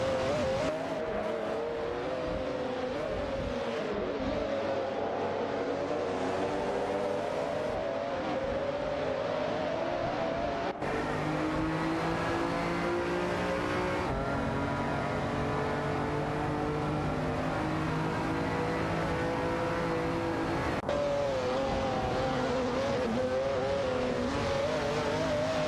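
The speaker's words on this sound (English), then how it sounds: "a close battle between Greninjeb and N29PA for the 11th spot, with both cars vying for an advantage" Race car engines in a racing video game, a loud continuous roar of several cars with rising and falling pitch as they accelerate, shift and jostle for position, alone with no talk.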